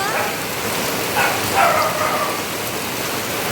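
Steady rain pours down in the Konkan during the monsoon, a dense, even hiss of drops on surfaces that carries through the whole stretch, with a faint distant bark now and then.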